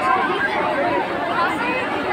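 Dense crowd chatter at the Raniganj Rath Yatra procession, a thick continuous hubbub of many overlapping voices, close and fairly loud throughout.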